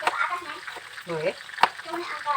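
Fried shallots are sautéed in oil, giving a close, crackling sizzle broken by a few quick stirring scrapes and sharp spatters.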